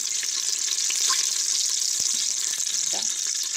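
Chicken pieces frying in a mix of oil and ghee, a loud continuous hissing sizzle close by with a few sharp knocks and scrapes of stirring layered over it.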